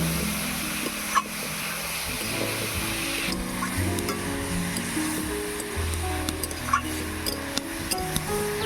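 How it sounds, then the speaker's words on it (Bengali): Steamed banana flower, potato and chana dal stir-fried in a pan, a steady sizzle with scraping and clinking stirs throughout, close and fairly loud, no voices. "দিয়ে দিচ্ছি ভাপিয়ে রাখা মোচা, আলু। এবারে একটু ভালো করে কষিয়ে নেব।"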